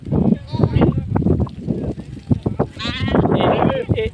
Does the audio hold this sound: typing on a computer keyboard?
no